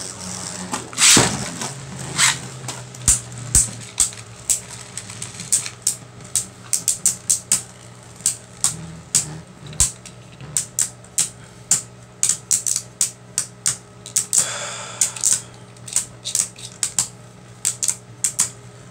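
Guardian Kerbeus Beyblade tops, Hasbro and Takara Tomy versions, clash in a stadium after launch, giving a fast run of sharp clicking and rattling impacts with a brief grinding scrape near the end.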